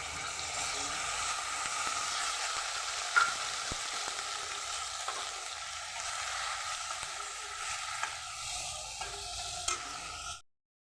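Dried red chillies, ginger and green chilli paste fry in a pan with cumin, coriander and turmeric, giving a steady close sizzle with a few soft clinks, no talk, cutting off at the end.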